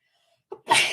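One sharp human sneeze during a podcast, a short intake followed by a loud burst, close to the microphone.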